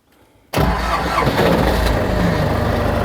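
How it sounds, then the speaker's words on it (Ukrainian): A tractor engine starts with the turn of a key, catching abruptly after a brief quiet moment and settling into a loud, close, steady idle. "Заводьте, повертайте ключ."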